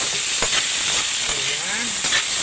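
Mushrooms sizzle in hot oil in a pan, a loud, constant frying hiss heard up close with a few faint bubbling pops.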